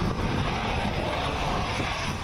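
Military aircraft and helicopters, including Rafale fighters, a C-17 Globemaster, Chinook and Mi-17 helicopters, during a joint army and air force drill. A loud, steady engine roar fills the whole stretch with no break and no speech.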